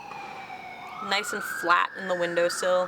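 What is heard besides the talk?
police sirens passing outside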